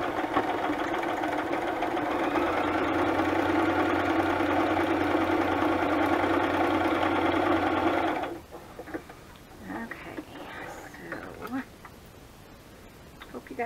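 A sewing machine stitches a zigzag on a handmade butterfly journal's decoration, a close, steady mechanical whir running for about eight seconds before it stops, followed by softer handling noises and a voice.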